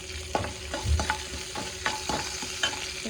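Curry leaves frying in hot oil for tomato rice, a steady close sizzle with several scraping stirs of a spoon against the pan spaced through it, no voices.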